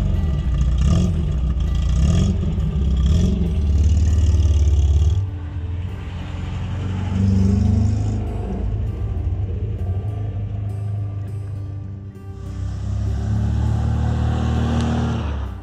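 A 1972 MGB GT's engine revs and drives past, loud throaty bursts of acceleration rising and falling over several passes, with a steady rumbling idle in between.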